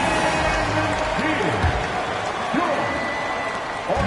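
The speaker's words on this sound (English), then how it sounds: "please give a big round of applause for your Magic Youth Day" Crowd applause and cheering fill a basketball arena at a Magic versus Grizzlies game as a loud, continuous roar while an announcer speaks over it.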